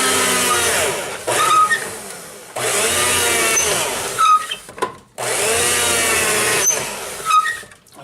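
A Walmart-style electric meat slicer cutting deer meat into quarter-inch strips for jerky, three long whirring motor passes, each ending in short clunks and scrapes as slices drop.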